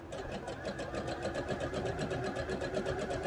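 A sewing machine stitching a fabric seam, with a fast, even mechanical chatter of the needle running steadily and close throughout, no voices.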